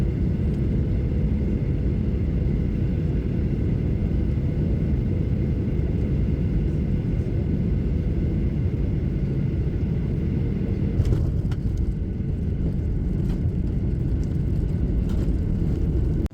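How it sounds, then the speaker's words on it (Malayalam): Steady, loud low-pitched jet engine roar inside an airplane cabin as the plane prepares to land, continuous without pause, with faint rattles near the end. "ഇതാ നമ്മുടെ വിമാനം ലാൻഡിങ്ങിന് വേണ്ടിയുള്ള തയ്യാറെടുപ്പിലാണ്."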